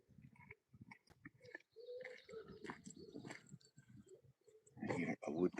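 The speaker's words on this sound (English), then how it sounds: "I hear a wood pigeon." Wood pigeon cooing near a loch at sunrise, soft rhythmic coos and chirps from other birds mixed with a person talking quietly nearby.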